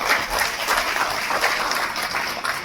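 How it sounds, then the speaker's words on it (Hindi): Audience applause at a security leadership summit award ceremony: a dense, steady wash of many hands clapping at once, fairly close and even in loudness, with no speech over it. "जोरदार तालियां"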